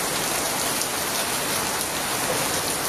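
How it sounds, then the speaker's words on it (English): Steady, moderate rain shower falling without letup, a dense even hiss of drops on surfaces with no thunder, close and continuous throughout. "But there's nothing like a full rain shower."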